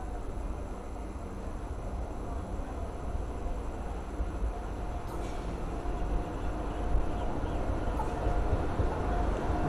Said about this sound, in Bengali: 1 নম্বর প্ল্যাটফর্মে এখন ভাগীরথী এক্সপ্রেস ঢুকছে